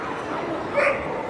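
Dogs at a large international dog show in Helsinki give a short yip and bark amid the steady hubbub of a crowded indoor hall, with people talking in the background.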